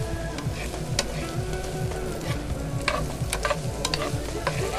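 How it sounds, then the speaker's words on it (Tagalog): Sweet potato sautéing in a pan: a steady, close sizzle and fry with repeated stirring scrapes running throughout, and no voices. "mga 10 minutes gihapon natin niya gigisahon kay according gihapon kan chef, kinanglan maluto gihapon an kamote"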